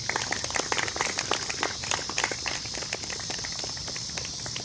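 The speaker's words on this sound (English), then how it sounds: "please give a big round of applause for Erica McCroskey for helping put this together" An audience at a Hiroshima 70th anniversary event applauds, a dense crackle of many hands clapping that stays steady throughout.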